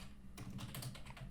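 Rapid keystrokes on a computer keyboard, a short quiet burst of clicks close by over a low background hum.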